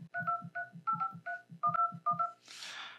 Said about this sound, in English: And then we'll type in the phone number we want to call.